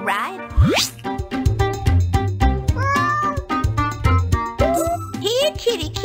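Meowing from a cat in the Granny in Paradise video game repeats several times over bouncy game music and sound effects, the high wavering cries loud and close.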